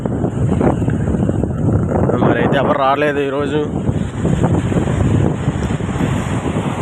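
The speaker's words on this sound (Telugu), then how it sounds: "సముద్రం కూడా కొంచెం గట్టిగానే పోటు వస్తుంది" Rough sea and strong wind roar continuously at Machilipatnam beach during a cyclone, the gusts buffeting the microphone while someone talks over the din.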